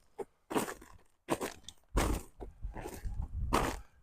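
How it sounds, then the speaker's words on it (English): Ice crunching underfoot on outdoor steps near a herb garden, a series of close, sharp crunches in an uneven walking rhythm, with no talk over them. "You can probably hear the ice crunching underfoot."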